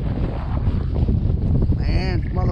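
Gusty wind buffets the microphone beside the Mohawk and Hudson rivers during bank fishing, a loud continuous rumble with a voice speaking briefly near the end.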